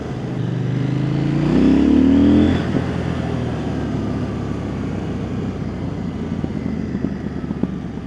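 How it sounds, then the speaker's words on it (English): A CFMOTO 800NK Sport 2024 motorcycle accelerates hard with a rising engine note, then eases off into steady exhaust burbling and popping, loud and close, with no one speaking. "Oh shit, the burbles in the exhaust,"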